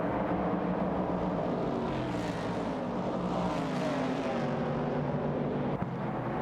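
Racing cars, including a Ford Falcon and a Ford Mustang Boss, roar steadily through a racing video game, engine drone holding loud and continuous with no voices over it.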